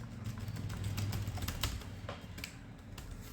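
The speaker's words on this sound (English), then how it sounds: "So now I'll type anything." Steady, fairly quiet typing on a computer keyboard at a terminal text editor, a continuous run of soft key clicks with no talk.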